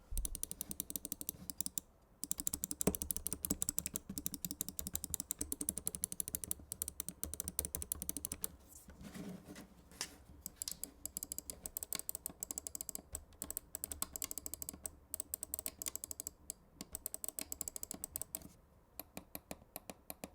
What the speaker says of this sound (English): let's drop a sound test so you guys can hear what this mouse sounds like.